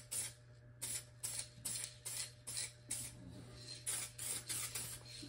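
Spray can hissing a light coat onto the floor of a 1974 Ford F250 truck bed, in repeated short bursts of about half a second each, close and steady, over a faint constant low hum.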